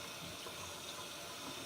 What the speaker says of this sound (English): Throw that in there so I can wash the celery.